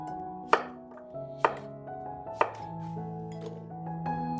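Ginger and courgettes being cut into cubes with a knife on a board: three sharp, distinct chops spaced about a second apart, close and clear over quiet background music.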